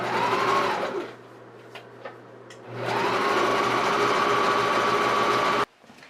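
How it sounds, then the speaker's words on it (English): A sewing machine straight-stitches along the top edge of a 1-inch fold on a baby peasant dress. Its steady, close whirring motor runs briefly, pauses, then runs again for a few seconds before stopping abruptly. "Then you can go ahead and just do a straight stitch right along that top edge of your 1 inch fold."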